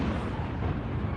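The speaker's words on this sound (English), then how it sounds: "So you're seeing more missiles come down and hit." Missiles striking and exploding in a continuous dense, rumbling roar, loud and unbroken across the short stretch.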